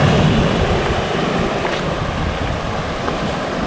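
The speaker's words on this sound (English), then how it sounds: "Look at this ocean." Wild ocean surf pounds a rugged Canadian beach, a loud, continuous broadband roar of breaking waves with wind buffeting the microphone, no voices.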